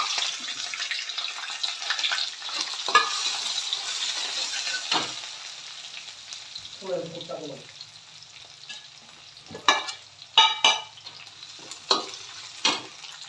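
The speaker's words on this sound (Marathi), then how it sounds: "मिरची पण छानपैकी परतलेली आहे." Coarsely pounded chili and browned garlic sautéing in a pan, a steady close sizzle broken by scraping stirs and sharp clatters of the spoon against the pan toward the end.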